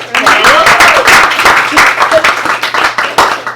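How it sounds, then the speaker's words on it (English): An audience at a leadership talk breaks into applause, a dense wash of clapping with a cheer rising briefly at the start, then thinning into scattered individual claps as it fades out. "Round of applause for you guys."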